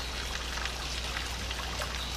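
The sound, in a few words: water trickling down in Fallout 76 video game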